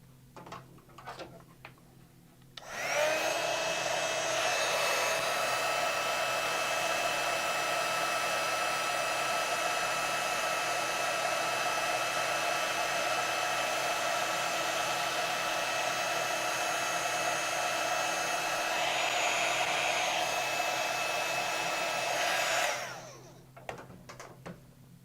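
A heat tool blows steadily over embossing powder dumped on a crafting project, a loud continuous whir lasting about twenty seconds that starts and cuts off abruptly, with faint handling before and after.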